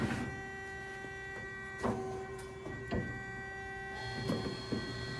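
A Marvel 60-degree tilt programmable bandsaw hums steadily with a tonal mechanical whine while it advances 48 inches of material and makes a cutoff. Several distinct clunks and knocks cut through the quiet drone, with no voices.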